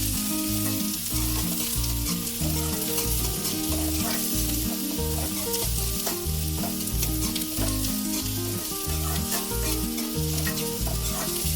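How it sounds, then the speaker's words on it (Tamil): Finely chopped large onion fries in oil with cinnamon and cloves, a dense, steady sizzle close up with regular scraping and stirring strokes against the pan throughout. "வெங்காயம் நல்லா வதங்கட்டும்."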